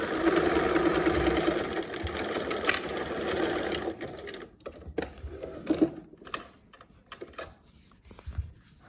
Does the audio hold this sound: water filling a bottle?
no